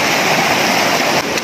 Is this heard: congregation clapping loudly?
no